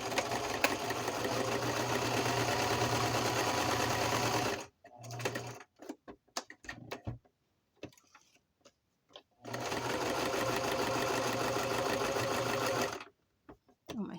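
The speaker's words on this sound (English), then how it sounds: "Oh, my sewing machine is wobbly." A wobbly sewing machine runs in two long bursts of rapid stitching on paper craft pieces, with a stretch of quieter clicks and handling noises between them.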